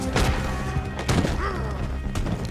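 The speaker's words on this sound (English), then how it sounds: "my horse ran into a tree" A horse gallops into a tree in Red Dead Redemption 2, giving heavy crashing thuds and a sharp whack amid game noise, with a second impact about a second later and tonal effects trailing after.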